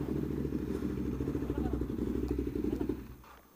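A Ducati Hyperstrada motorcycle engine revs with a throbbing, pulsing exhaust on a test ride, loud and close for about three seconds before easing off, with a voice briefly heard.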